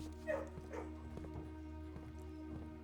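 Dogs in the video game Blue Prince give a few short yips and barks near the start, over a steady droning game soundtrack, with no voices.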